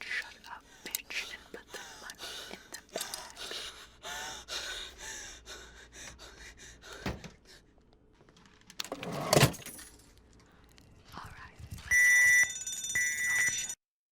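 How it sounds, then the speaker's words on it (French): A loud electronic alarm with piercing steady tones blares for a couple of seconds near the end, after a stretch of close whispering, breathy gasps and soft tapping in an ASMR setting. "une alarme qui te pète dans les oreilles"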